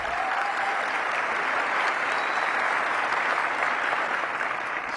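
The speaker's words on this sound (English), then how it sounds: "let's give him a round of applause." An audience at the Washington DC Economic Partnership annual meeting gives a round of applause, a steady, fairly distant wash of many hands clapping with no talking over it.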